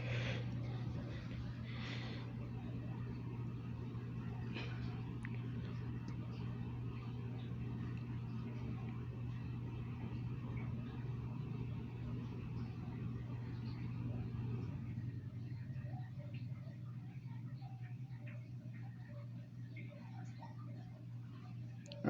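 A Hampton Bay Southwind IV 52-inch ceiling fan speeding up gives a steady low motor hum with faint ticking and airy whoosh, holding a constant, quiet level for the full stretch.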